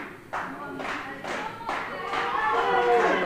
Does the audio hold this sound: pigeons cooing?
no